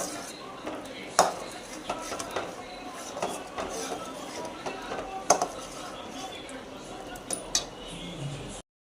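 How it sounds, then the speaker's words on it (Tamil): Whisk scraping and clinking against a pan while stirring a white sauce for pasta, with intermittent metallic taps and a continuous swishing texture, up close and fairly soft. "நல்லா விஸ்க் பண்ணிக்கோங்க"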